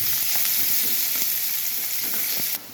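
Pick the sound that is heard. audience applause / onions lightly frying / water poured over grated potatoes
onions lightly frying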